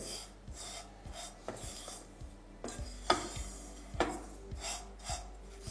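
Powdered sugar being stirred into vermicelli in a pan, a dry rasping scrape repeated in a steady rhythm of strokes, close and fairly quiet with occasional sharper knocks against the pan.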